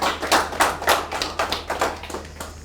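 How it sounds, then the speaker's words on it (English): A small group in a sales training room gives a brief round of applause, a few sharp, fairly close claps in quick bursts that fade within seconds. "Give him a round of applause."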